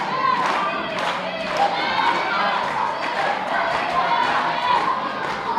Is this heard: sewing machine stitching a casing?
no